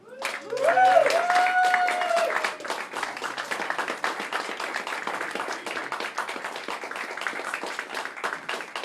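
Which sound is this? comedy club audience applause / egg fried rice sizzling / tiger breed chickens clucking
comedy club audience applause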